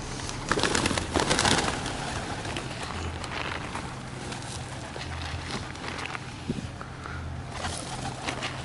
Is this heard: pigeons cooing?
yes